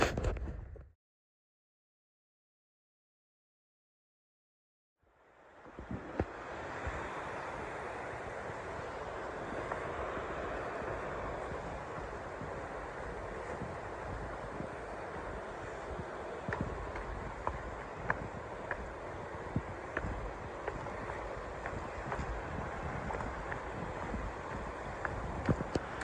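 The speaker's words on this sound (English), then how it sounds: "Here we are at Laurel Fork Falls." Laurel Fork Falls, a waterfall on the Appalachian Trail, roars as a continuous broadband rush that fades in after a brief quiet gap and holds steady, with occasional wind buffeting on the microphone.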